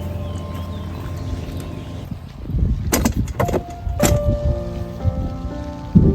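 Rain patters on surfaces across a farm under a low engine-like rumble, with a few sharp knocks and rattles that grow busier toward the end.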